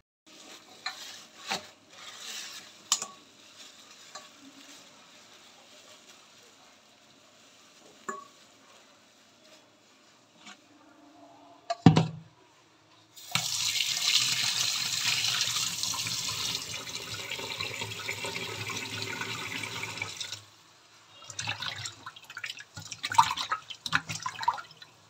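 Chicken being rinsed under a running kitchen tap, a steady stream of water splashing for several seconds after scattered handling clatter, then a quiet pause and more clinks at the end.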